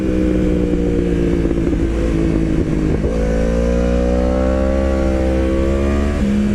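A 1000cc sport motorcycle engine while riding on a twisty road, a loud steady drone with clear rising pitch as it revs up after a brief dip, close and continuous.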